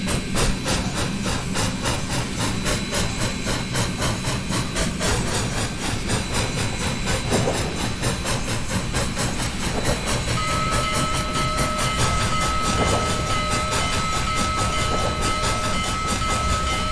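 In the train simulator game Trainz, a train rolls slowly into a station with a steady rumble, hissing steam and rhythmic clanking, ending in a long high whistle-like tone.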